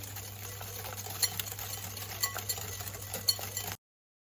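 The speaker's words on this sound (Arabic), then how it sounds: "غادي نطرب هاد المكونات مزيان مع بعضياتهم" Waffle batter ingredients, including vanilla sugar, beaten together in a bowl with a steady whisking scrape and occasional light clinks against the side, close and continuous, then stopping abruptly.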